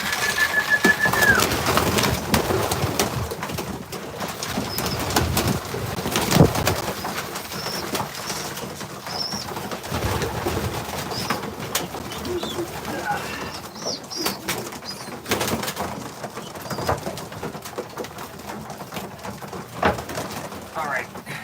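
Young pigeons coo softly inside a loft, faint and scattered beneath a person talking, with occasional wing flutters and shuffling.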